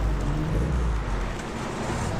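Classic rally cars passing along a country road during a historic rally, a steady loud low engine rumble and road noise throughout with no speech.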